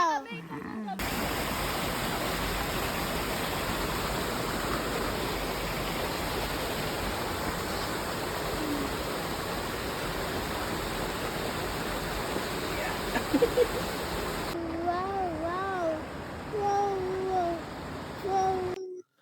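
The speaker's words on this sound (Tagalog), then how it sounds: "Natatanaw na namin ang falls pagkatapos ng isang oras na trekking." Steady broadband roar of Bumudok Falls in Sagada, a waterfall reached after a steep downhill trek, filling the scene continuously; near the end the roar drops back and a few voices come through over it.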